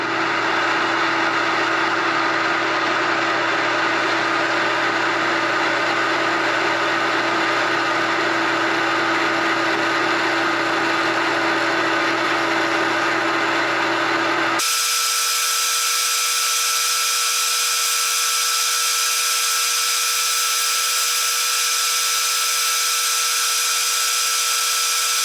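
A lathe turns the outside diameter of a wooden pattern for a statuette, a loud, steady machine whine with a cutting hiss that abruptly shifts to a thinner, higher drone about two thirds of the way through.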